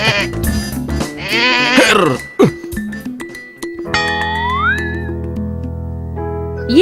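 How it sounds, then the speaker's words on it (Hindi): A goat in a Hindi animated children's story bleats in a few wavering cries over background music, fairly close and clear, with a voice briefly present. "ये बकरी कहाँ से ले आए हो तुम?"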